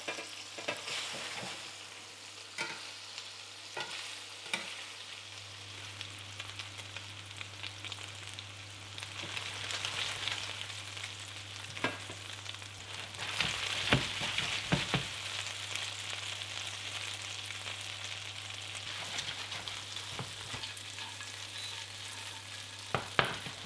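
Steady frying sizzle from a pan, continuous and fairly close, with occasional clicks and scrapes of stirring scattered throughout.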